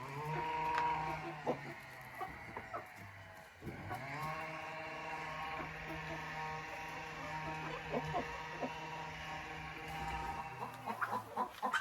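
Roosters in their coop cluck and call repeatedly in a quiet farmyard, with overlapping low murmurs and a few sharper squawks, nearby and moderately soft.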